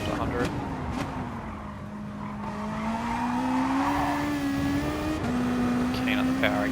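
A Gr3 race car in Gran Turismo Sport at Bathurst brakes hard, its engine tone sliding down under a continuous drone with tire noise, while someone talks over it.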